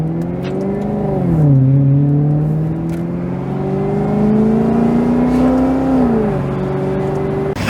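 A Maserati GranTurismo engine revs close and loud, its tone climbing, dipping and rising again across several throttle blips, no voices over it.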